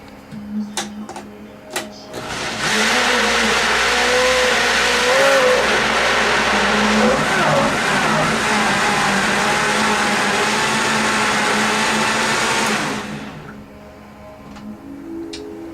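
After a few clicks, an overfilled blender's motor roars to life and whirs steadily for about ten seconds, grinding soup ingredients with a churning texture, then cuts off abruptly.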